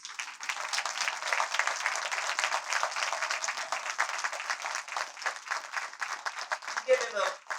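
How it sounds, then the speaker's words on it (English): A live crowd at a poetry reading for poet David Matthews bursts into sustained, dense applause that carries on strongly with scattered cheers, and a brief voice cuts in near the end. "Give him a huge hand. I need to see everybody clapping here."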